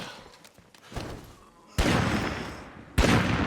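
Gunfire in a first-person shooter game, with sharp broadband bursts landing near 1.8 s and again at 3.0 s and booming over a lower, busier background of game noise.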